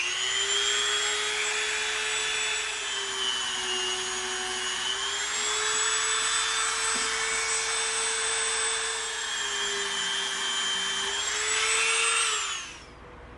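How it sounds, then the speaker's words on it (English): A Dremel rotary tool fitted with a larger bit grinds EVA foam, a loud sustained high-pitched whine with a steady buzzing hum underneath that holds for about twelve seconds before spinning down at the end. "now what we did is we put our slightly larger Dremel bit on"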